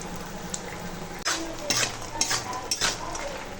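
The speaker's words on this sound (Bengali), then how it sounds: "একটু বড়ি ভেজে নিচ্ছি" Sun-dried lentil dumplings (bori) fry in oil with a close, bubbling sizzle, broken by several sharp scrapes and clinks of a spatula stirring the pan.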